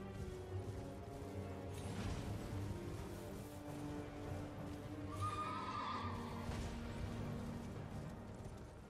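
A horse in the video game Elden Ring neighs and whinnies over clip-clopping hooves, with whooshing and clashing game effects around it, sustained and fairly close.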